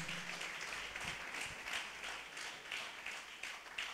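An audience at a Don Bosco gathering gives a round of applause, with many hands clapping in a continuous, somewhat distant and fairly soft patter lasting about four seconds.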